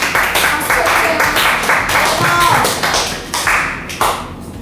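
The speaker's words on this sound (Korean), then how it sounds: "박수" Listeners at a public lecture on the Bu-Ma democratic uprising applaud with a scattered burst of claps and taps, fairly loud and uneven, mixed with voices talking.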